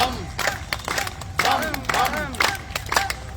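A group claps hands during a yoga class, several bursts of mixed, slightly ragged claps rising and falling over a few seconds, loud and close, with voices calling out among them.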